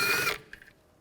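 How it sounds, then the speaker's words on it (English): Power tool driving a T30 socket on a screw during rear wheel hub work on a 2007-16 GMC Acadia, a brief whirring burst followed by a short ratcheting tail, close up. "I'm going to use a T30 socket."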